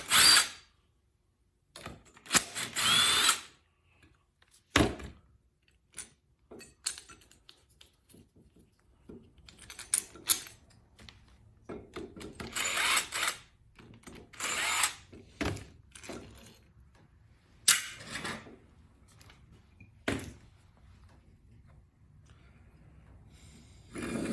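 Removing the carburetor from a Homelite XL chainsaw brings repeated short whirring bursts of a power driver, loud and close, separated by quiet pauses and small clicks of parts being handled.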